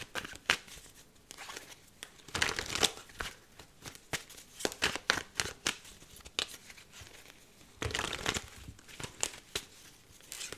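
A deck of tarot cards is shuffled up close in repeated crisp riffling and flapping bursts, uneven in rhythm with brief pauses between rounds.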